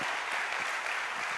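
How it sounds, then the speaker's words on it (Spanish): Congregation in a church claps in a brief, dense burst of applause, a continuous even wash of many hands. "Vamos, dale un aplauso a Dios."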